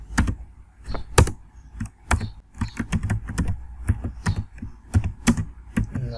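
Rapid, uneven keystrokes clatter on a computer keyboard as HTML code is entered, sharp close clicks coming in quick bursts with brief pauses, no voices.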